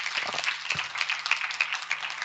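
A congregation at a New Year Christian worship gathering claps together to welcome a woman preacher, producing a dense, steady wash of applause at moderate volume with a faint low hum underneath.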